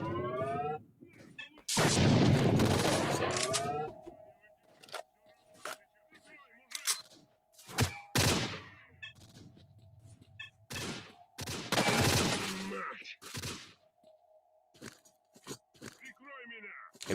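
Gunfire in the shooting section of S.T.A.L.K.E.R., sharp scattered shots and crunchy bursts between bouts of someone talking, with a steady game hum running underneath.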